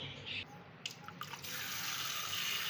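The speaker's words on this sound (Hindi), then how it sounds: "इसमें हम पानी भर देंगे और इसको अच्छी तरीके से वॉश करेंगे।" Tap water running into a bowl while kaleji (liver) is washed in a kitchen, a soft splashing start with a few drips, then a steady hissing flow.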